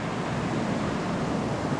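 A natural waterfall in Utah, heard as a broad, steady rushing roar with no breaks, close and loud, mixed with some wind buffeting and no voices.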